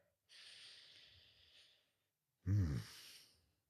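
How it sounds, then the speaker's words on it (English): Two close, breathy sniffs at a drink: a longer soft inhale, a brief pause, then a sharper, louder snort-like sniff. "Oh, sniff test."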